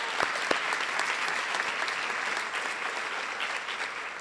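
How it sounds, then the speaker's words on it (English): Steady crowd applause at a school rally, a dense wash of many hands clapping continuously at moderate loudness, with a few sharper claps standing out near the start and no talk over it. "Another round of applause for Mary Glass and Trisha McKay Powers for all their hard work"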